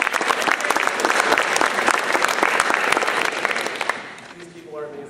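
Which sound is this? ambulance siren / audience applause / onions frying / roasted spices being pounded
audience applause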